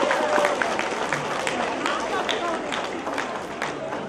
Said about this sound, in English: everybody give yourselves a round of applause for what you've done